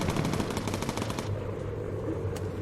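Bomber turrets fire rapid, loud machine-gun bursts in the Bomber Crew video game, with dense rattling for over a second before the bursts thin into scattered shots over engine drone.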